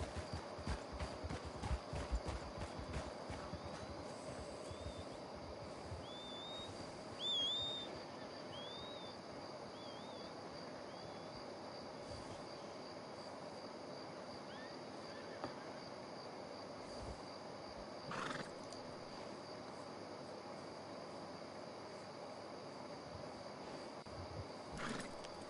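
Horses in a video game trot along in a steady clip-clop of hooves that continues for the whole stretch, with a few faint chirps and occasional bumps mixed in and no talk.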